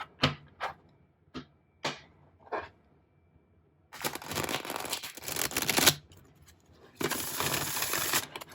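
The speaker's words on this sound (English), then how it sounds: "And do one riffle shuffle." A few brisk card snaps, then two long riffle shuffles of a stiff, brand-new tarot deck, crisp and close, each a rapid fluttering rush.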